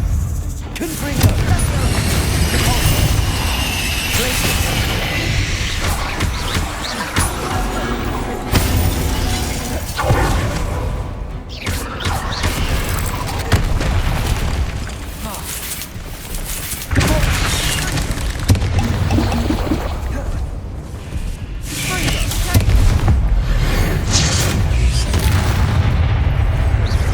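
Repeated Confringo spell blasts in Hogwarts Legacy on PS5, a long run of loud booming, shattering explosions and crashes in dense combat, with a voice speaking over them at times.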